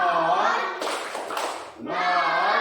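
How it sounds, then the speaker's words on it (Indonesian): A school class performs a rhythmic clap-and-chant routine. Chanted voices fill the start and end, with a burst of many hands clapping together in the middle, close and lively. "Mari tepuk 100 untuk di sini dulu."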